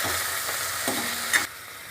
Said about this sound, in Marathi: 1-2 मिनिटं चांगला पनीर परतून घ्यायचा।